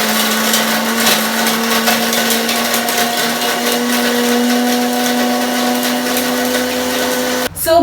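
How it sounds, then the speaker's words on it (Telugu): A mixer grinder grinds coconut with a loud, unbroken high motor whine for nearly eight seconds, cutting off abruptly at the very end. "సో ఫస్ట్ మనం ఈ కోకోనట్ని గ్రైండ్ చేసుకోవాలి"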